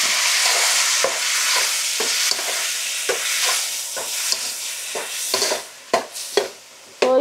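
Onions frying in a pan for mutton chops curry, a loud close sizzle broken by regular scraping stirs of a spatula, roughly one per second, with a few sharper knocks toward the end and no voices.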